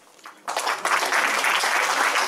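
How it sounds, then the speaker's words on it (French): Audience applause for Françoise at a graphology session breaks out suddenly after a quiet lead-in, then carries on as a steady, dense clatter of many hands. "je vous demande d'applaudir Françoise"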